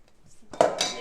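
A hot metal pot is lifted off a double boiler while making Nanaimo bars, giving a sharp clank of metal on metal midway through, after some quiet shuffling and faint handling noises.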